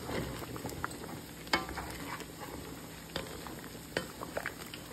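Duck meat curry being stirred in a cooking pot, with a soft sizzle and bubbling under occasional faint scrapes and clinks of a spoon, quiet and close.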